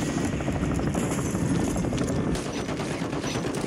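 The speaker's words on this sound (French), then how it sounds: "J'ai commencé à tirer l'hélico au pire." In an online shooter video game, a helicopter is shot at: dense, continuous gunfire crackles over a steady rotor chop, loud and unbroken for the whole stretch.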